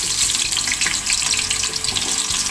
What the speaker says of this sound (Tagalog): ang gagawin po natin sa ating patatas ay ipriprito natin to guys para mas masarap